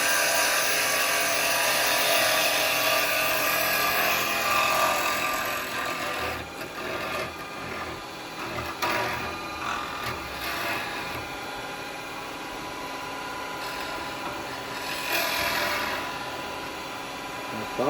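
A carbide tool cuts on a woodturning lathe shaping a toothpick holder, a steady close hiss and scrape with brief bumps and pauses as the tool meets the spinning wood.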